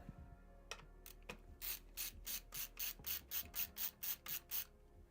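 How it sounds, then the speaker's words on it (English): A screwdriver ratchets as it tightens an SSD screw during a PC workstation build. About a dozen crisp, close clicking bursts come in an even rhythm, preceded by a few scattered clicks, with no talk. "we actually have to use a screwdriver to put this SSD in"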